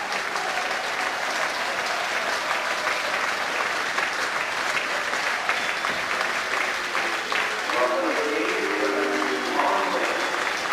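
A football crowd at a Plymouth Argyle match against Wycombe Wanderers applauds the Argyle squad with a steady, dense wash of clapping and crowd noise throughout. Faint voices and cheers rise within it.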